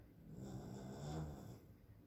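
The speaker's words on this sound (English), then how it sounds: "dog snoring." A dog snores softly nearby, one slow raspy breath swelling and fading against quiet background.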